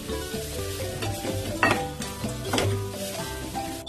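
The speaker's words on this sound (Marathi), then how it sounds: "खोबऱ्याचे केस मस्त परतून घेऊ याच्यामध्ये" Grated coconut being sautéed and stirred in a pan for beetroot halwa, a steady close sizzle with repeated scraping and clinking of a utensil against the pan, no talking.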